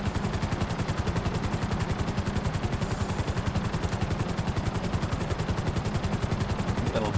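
Helicopter rotor in GTA 5 Online, a loud, steady rapid chop of blades pulsing evenly throughout, close and uninterrupted with no talking.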